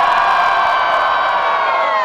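A rap battle crowd at Batalha da Aldeia roars and whoops for the rapper Breno, a loud, dense wall of cheering that stays strong throughout.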